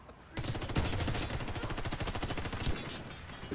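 Rapid bursts of automatic gunfire from a competitive first-person shooter match crackle continuously after a brief quiet start, loud and dense throughout, with no talking heard.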